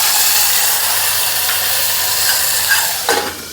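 Tomato puree hits a hot tempering of mustard seeds, cumin, coriander seeds and asafoetida, producing a loud, steady hissing sizzle that slowly softens, with a brief clatter near the end.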